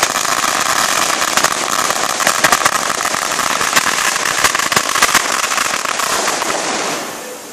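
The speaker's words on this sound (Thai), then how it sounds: "อันนี้คือจุดประทัด" Firecrackers go off nonstop at a Thai ordination ceremony, a loud dense crackling barrage of rapid pops and bangs that fades toward the end.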